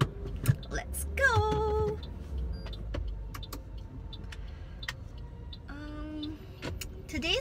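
Inside a moving car, a low road rumble sits under scattered clicks, ticks and short whirring mechanical sounds, with a brief rising whine near the start and again late in the clip.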